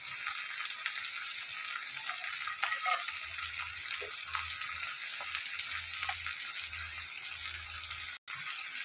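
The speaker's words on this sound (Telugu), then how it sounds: "కట్ చేసి పెట్టుకున్న బీరకాయ ముక్కలు వేసేద్దాం. అలాగే అరగంట ముందు నానబెట్టుకున్న శనగపప్పు కూడా వేసేద్దాం." Ridge gourd pieces and soaked chana dal fry in a pan with a steady, close, bright sizzle that holds throughout, broken by faint stirring clicks and a few low bumps, with no talking.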